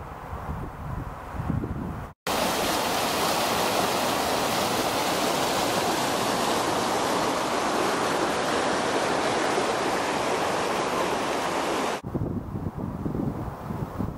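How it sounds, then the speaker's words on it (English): River navigation channel on the Itchen Way between Winchester and Eastleigh, water flowing strongly with a loud, steady rushing wash that fills the clip, briefly cut near the start and fading at the end. "For a navigation or a canal, it's flowing quite strongly."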